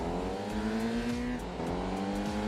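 A touring race car engine in a racing video game revs steadily at high pitch, with smooth gear changes producing rhythmic dips and climbs, loud and continuous without any talk.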